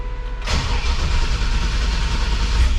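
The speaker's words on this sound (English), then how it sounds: "go ahead and turn the key on here." Key-start of a fully restored show truck: brief cranking, then the engine catches and settles into a steady, loud idle rumble close by, with no voices.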